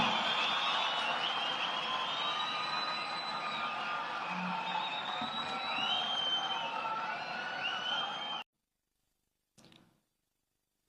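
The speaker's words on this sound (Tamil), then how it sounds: "ஒரு அரங்கன் நிறைந்த கைத்தட்டல் நமது குழந்தைகளுக்கும் வெற்றி தலைவருக்கும்" A packed hall at an education award ceremony erupts in loud, sustained applause and cheering with whoops and whistles, a dense continuous roar for about eight seconds before cutting off, followed by a brief faint sound.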